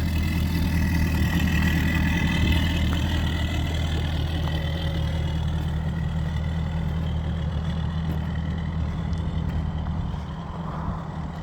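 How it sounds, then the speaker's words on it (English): A 2021 Mercury 250 ProXS V8 outboard idles on a Ranger bass boat, a steady, close, low rumbling burble that holds even throughout and eases slightly near the end. "This is a 2021 Mercury 250 ProXS V8 on this beautiful Ranger boat."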